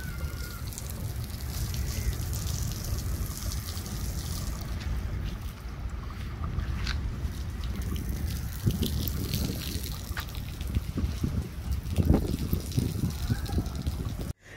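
Water gushing and splashing steadily while grass is watered outdoors in the afternoon, a continuous moderately loud flow with faint background sounds.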